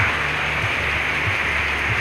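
Steady rain falls outdoors, a dense continuous hiss of drops close to the microphone with a faint low hum beneath and no voices.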